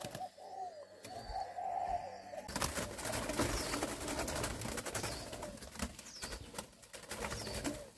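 Spotted doves coo and flap about in cages on a dove farm, soft cooing calls giving way to a dense rustle of wings and cage noise that fills the space up close.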